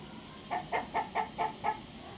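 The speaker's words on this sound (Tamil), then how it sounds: "அவங்க வீட்டு வழியா தினமும் ஒரு கோழி வர்றத கவனிச்சாங்க" A chicken clucks six times in an even, quick rhythm, close and clear over a soft background hiss, in a Tamil moral story about a hen that lays golden eggs.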